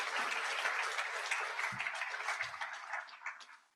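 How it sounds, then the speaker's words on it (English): A convocation audience breaks into applause for a colleague, dense clapping that stays full for a couple of seconds, then gradually thins and fades. "So give Drew a round of applause as well."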